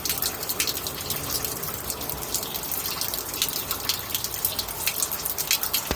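Liquid drains from the turbocharger of an ALCO S6 locomotive, a Model 320F unit, as a steady, fairly loud splashing gush with fine dripping texture, continuous throughout.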